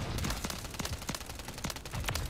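Akimbo WSP submachine guns fire in Modern Warfare 3 as rapid, dense bursts of close, punchy shots, overlapping and sustained with only brief gaps, and no voices over them.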